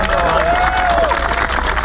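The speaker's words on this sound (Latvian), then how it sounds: "Tā kā katram aplausi no jums par šo visu" A crowd applauds, loud and continuous clapping with some cheering mixed in, filling the short moment.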